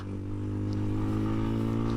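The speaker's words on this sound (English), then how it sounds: "And this engine is really smooth. Doesn't vibrate a whole lot." A 2024 CFMOTO Papio SS motorcycle engine runs smoothly and steadily up close, a constant low throbbing hum with even harmonics and no talking.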